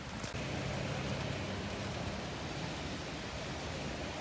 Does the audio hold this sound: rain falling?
yes